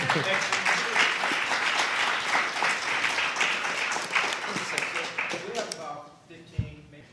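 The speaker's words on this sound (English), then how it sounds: "One more round of applause." An audience applauds at the close of a panel discussion on reparations, sustained full-room clapping for about six seconds that thins out and fades to a few scattered claps.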